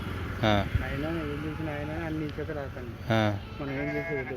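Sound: sheep and goats bleating

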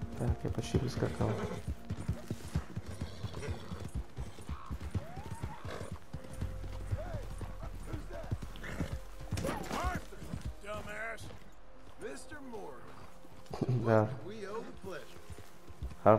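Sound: horse galloping in Red Dead Redemption 2 video game

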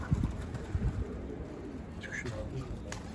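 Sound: pigeons cooing and moving

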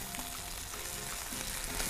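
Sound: chicken breast frying in a pan

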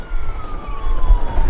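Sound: police car siren in a video game

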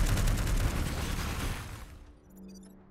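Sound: mech bombardment and gunfire in video game Into the Breach

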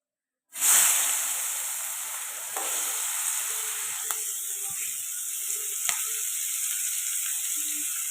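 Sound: green chillies and onions sizzling in oil in a pan

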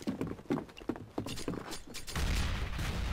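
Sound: gunfire in video game Counter-Strike Global Offensive

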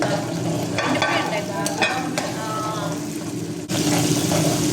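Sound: tomatoes frying in a pan for gongura chicken

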